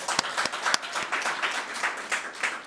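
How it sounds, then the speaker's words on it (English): Sparse, fairly quiet clapping from a graduation ceremony audience, with individual claps distinct in a loose, uneven rhythm over a few seconds. "round of applause"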